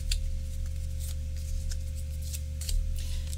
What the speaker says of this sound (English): And you saw that I riffle shuffled, and they were good riffles.